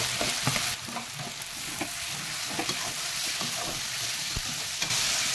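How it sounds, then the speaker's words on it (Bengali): Steady, close sizzling and bubbling of water boiling in a fish curry, with scattered pops and soft clinks, no talking. "আর এই যে আমার জল টকবক করে ফুটছে।"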